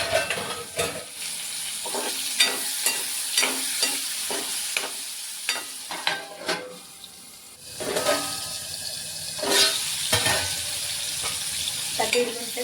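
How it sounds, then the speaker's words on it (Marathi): Ridge gourd sautéing in oil in a pan with salt and turmeric, a steady close sizzle broken by repeated scraping stirs of a spatula, with a brief pause midway and no talking. "आपला दोडका आहे ना मस्त तेलामध्ये छान परतलाय"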